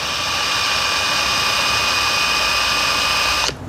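A power drill whines at a steady high pitch, counterboring a hole in a garage door, then stops abruptly near the end.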